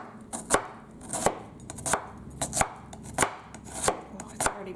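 A knife chops food by hand on a cutting board, likely onion since it stings the eyes, with sharp irregular knocks repeating quickly, close and clear, no voices.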